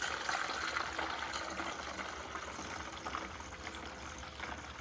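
Water pours into a one-gallon pitcher to mix a homemade peppermint oil pesticide, a continuous splashing trickle that starts strong and gradually softens, fairly quiet and close.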